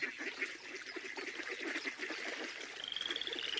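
Pair of green, warty toads croaking softly in grass at dawn on a misty summer morning, a faint rhythmic run of low croaks and pulsing calls.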